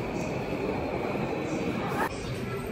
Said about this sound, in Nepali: सोनीको ट्रेन आयो गाइज